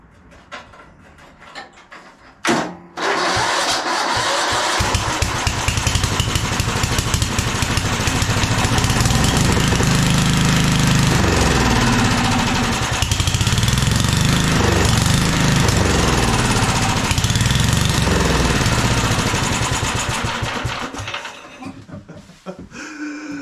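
A 1997 Craftsman II 30-inch rear-engine riding mower, choked and with a mouse nest inside, cranks briefly, then catches and runs loud and steady close by for about twenty seconds before cutting out.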